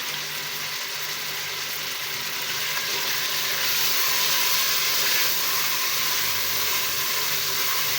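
Garlic ginger paste frying with salt in a hot pan, giving a steady, close hissing sizzle that holds evenly throughout with no talking.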